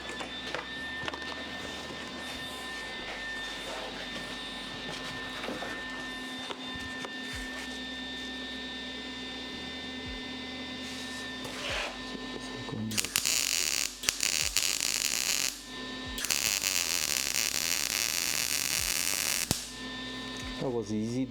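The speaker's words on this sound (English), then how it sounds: "Gonna throw the weld at the front there." Welding of turbo-to-intercooler piping in a car-tuning video game, a harsh crackling hiss that comes in loud bursts over a steady low hum, with a person talking during parts of it.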